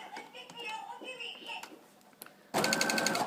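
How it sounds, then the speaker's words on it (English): A sewing machine straight stitching through a thick hooded towel starts up after a voice and some handling noises, running as a loud, steady mechanical whirr with rapid needle rhythm. "And then you're just going to do your straight stitch all the way through."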